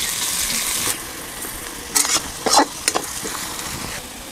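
Onions frying in hot oil for a spicy village-style Maggi, a steady broadband sizzle with several short scraping stir bursts from a spoon in the pan, close and moderately loud, with no talk.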